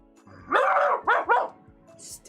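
A person imitating a dog with their voice, giving one long strained bark followed by two shorter barks in quick succession, loud and close, alone.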